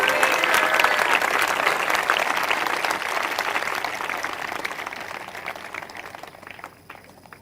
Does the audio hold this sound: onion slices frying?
no